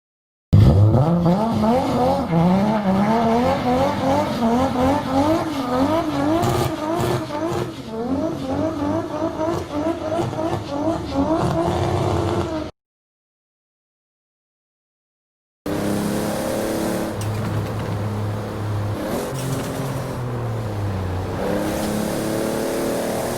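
Toyota Supra Mark IV exhaust in the video game Forza Horizon 5, loud engine revving up and down through gear shifts with tire squeal, cutting to silence before a second stretch of steady, droning exhaust.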